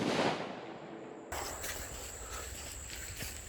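A single sharp shot fired at cheap Dollar Tree body armor, apparently a 5.56 rifle round, cracking loudly and abruptly, then a broad hiss and ringing tail that fades slowly.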